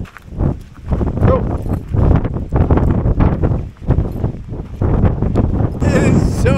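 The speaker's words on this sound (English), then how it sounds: "It is so windy." Gusty wind blows hard across the microphone outdoors in open country, surging and easing in loud buffeting waves over several seconds, with a voice speaking faintly underneath.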